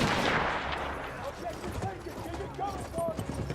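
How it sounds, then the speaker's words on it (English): Artillery fire booms and crackles in the Battlefield 1 game, a heavy blast at the start followed by scattered thuds and shots at middle distance, with voices underneath. "Wait for the enemy artillery barrage to stop firing."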